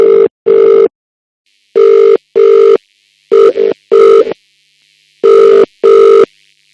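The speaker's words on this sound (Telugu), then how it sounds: "దానికి ముందు ఆదికి కూడా ఫోన్ చేసి ఆ తర్వాతే వీళ్ళని పిలుద్దాం." A telephone ringback tone sounds on an outgoing call, loud and clear, in paired bursts: four double pulses separated by short silences, with nothing else audible.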